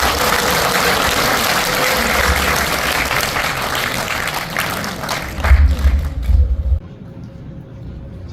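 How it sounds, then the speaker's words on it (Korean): Steady applause from a congregation at a church assembly's closing service fills the room, with a low rumbling hum beneath it before the clapping drops away. "자, 따뜻한 박수 부탁드립니다."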